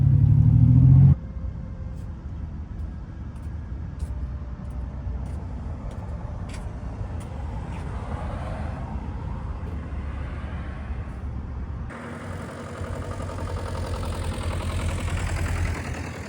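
A tractor engine runs nearby with a steady mid-low rumble and idling drone, loudest in the first second, then holding an even level for the rest of the stretch with no talk.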